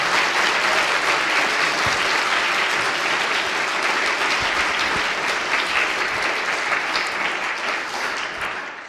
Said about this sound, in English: one more big round of applause for both of our presenters